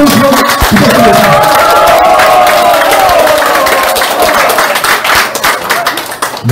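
A large crowd at a political party gathering applauds and cheers loudly, continuous clapping with shouts and whoops throughout, and a voice rising over the noise.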